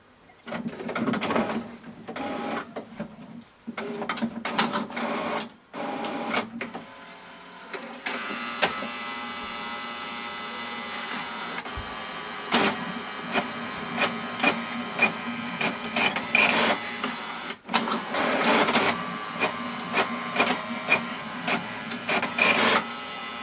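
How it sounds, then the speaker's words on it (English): HP Officejet 6962 inkjet printer copying two pages fed from its top document feeder, with whirring rollers, mechanical clunks and clicks, and long stretches of steady feeding and scanning hum, close and loud. "put the 2 pages on the top feeder and press copy document, so just black and white"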